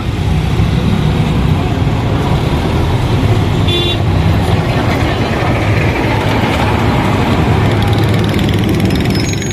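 Stuck in a traffic jam on the road from Karachi to Hyderabad near repair work, dense loud road noise of idling engines and passing vehicles, with a brief car horn toot partway through.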